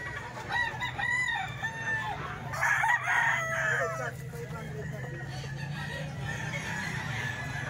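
A rooster crows twice in quick succession, loud and fairly close, over steady background noise, with people talking nearby.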